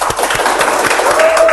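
A group applauds at an auto repair shop and taxi-fleet garage in Moscow, giving fairly loud, dense, continuous clapping that runs steadily without pause.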